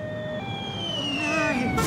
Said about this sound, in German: Der Krankenwagen kommt gleich.